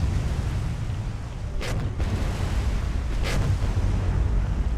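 Naval turret guns fire during a sea battle in the War on the Sea game: dense, loud rumbling gunfire with two sharper cracks standing out over continuous low booming.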